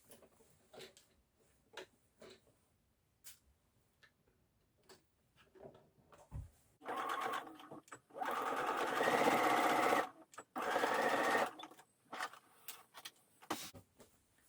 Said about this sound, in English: so you've just sewn down each end. That's held down all of those layers.